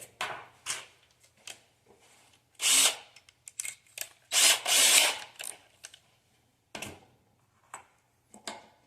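A power drill drives small screws through hinges into plywood in several short bursts of whirring, separated by pauses with light handling clicks, fairly close and moderately loud.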